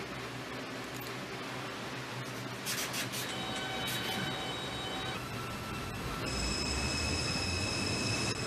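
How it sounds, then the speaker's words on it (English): R142 subway train on the 2 line, simulated in the game Hmmsim 2, running with a steady rumble and rail noise, with high tonal whines and squeals rising partway through; no talking. "This is a Manhattan-bound 2 train."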